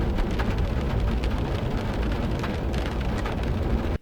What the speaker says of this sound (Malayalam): ഇപ്പോൾ ട്രെയിൽ ഹെഡ് കയറിയപ്പം മഴ ഉണ്ട്